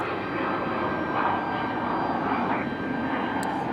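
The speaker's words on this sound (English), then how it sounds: "There's our beautiful A350 coming in from Charles de Gaulle." An Air France Airbus A350 jet airliner on final approach at Raleigh-Durham International Airport gives a steady, broad engine roar with a faint high whine, continuous and fairly loud, with no talk.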